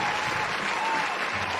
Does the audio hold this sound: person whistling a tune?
no